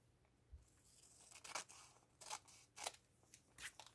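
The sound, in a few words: cutting folded paper with scissors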